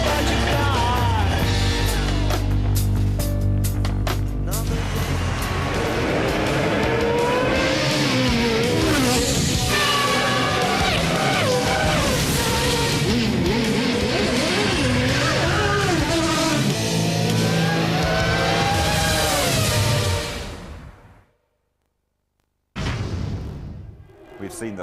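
Formula One cars racing at the 2002 Monaco Grand Prix, a dense, continuous roar with shifting engine pitches sweeping up and down, mixed with commentary and crowd noise, then cutting to near silence before resuming briefly.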